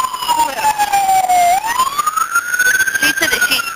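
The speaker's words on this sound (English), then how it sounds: "is that the truck siren still on?" A loud fire truck siren wails close by, its pitch dipping slowly then rising again in a long sweep, with muffled voices faintly beneath it.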